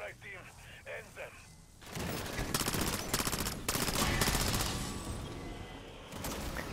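A submachine gun in an online shooter video game fires several rapid, loud bursts of automatic fire close up. Brief talk comes before the shooting, and a continuous rumble of game noise runs underneath.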